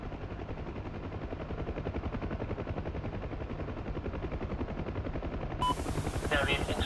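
Continuous rapid machine-gun fire from a helicopter in a flight video game drums steadily under the rotor's thrum, loud and unbroken throughout.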